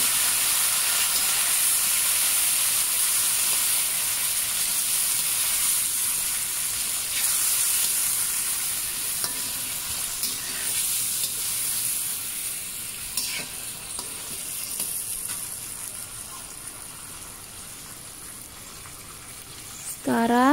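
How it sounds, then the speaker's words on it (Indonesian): Shrimp sizzle in a frying pan for an Aceh-style stir-fry, a loud, continuous hissing crackle with stirring that eases slightly over time, and a brief voice cuts in at the very end. "Setelah itu kita masukkan udangnya ya."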